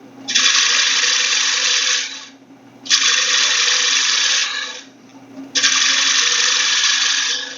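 A lathe tool cuts into the rim of a wooden bowl blank, three sustained bursts of bright, rough scraping hiss with short quieter gaps between, close and loud over a low motor hum.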